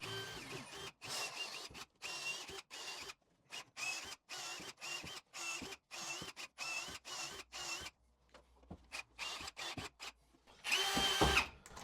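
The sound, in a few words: power drill drilling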